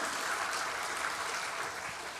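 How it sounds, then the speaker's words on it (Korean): A church congregation applauding during a Sunday service, a soft, even wash of clapping that sounds distant and steady for the whole stretch. "다시 한번 박수하겠습니다."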